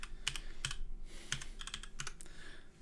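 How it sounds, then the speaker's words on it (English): Fingers typing quickly on a computer keyboard, producing an irregular run of close, crisp key clicks with a few short pauses between bursts. "typing the quotation mark and the W and then hitting tab complete kind of gets you out of having to type all that"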